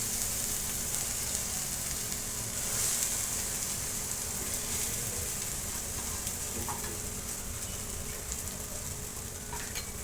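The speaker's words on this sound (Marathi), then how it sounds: "मी आता ह्याच्यामध्ये ही भरलेली वांगी टाकत आहे।" Stuffed brinjals frying in oil with dried shrimp, a continuous dense crackling sizzle heard up close at a steady, fairly quiet level throughout.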